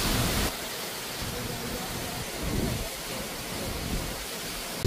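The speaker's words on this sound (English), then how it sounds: "that's one of the few waterfalls here in Iceland where you can actually walk under the" A waterfall in Iceland thunders from close by, heard while walking beneath it, a loud, constant roar of falling water with wind-like rumbling surges.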